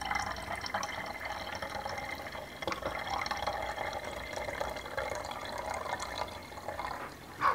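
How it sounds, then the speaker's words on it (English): Six ounces of water poured into a mix for homemade fly spray for animals, a steady quiet trickling and filling sound that runs evenly throughout with no talking. "And now we're going to add in 6 ounces of water."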